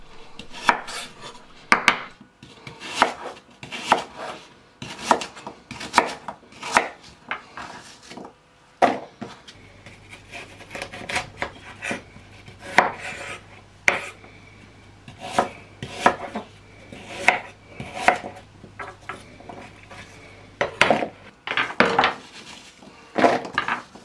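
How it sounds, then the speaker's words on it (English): A knife cuts apple quarters into wedges and large chunks on a wooden chopping board; a long series of crisp, close chopping knocks comes in quick uneven bursts with brief pauses, and no one speaks. "Cut the quarters into three wedges and then cut the wedges into large chunks."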